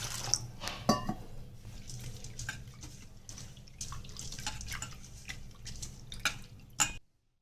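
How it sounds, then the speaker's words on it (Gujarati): Sago pearls and samo grains being rinsed in water for fasting-day dosa batter: steady watery swishing and splashing with scattered drips, fairly close, a sharper splash near the start and a clatter just before it ends. "હવે આને 2 થી 3 વખત આપણે પાણીથી ધોઈ લેશું"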